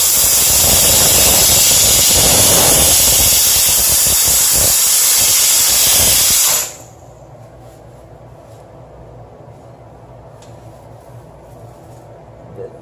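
A HomeRight steam cleaner blasts a loud, continuous hiss of steam onto dirty toothbrushes for about six seconds, then cuts off abruptly, leaving a quiet room with faint background noise.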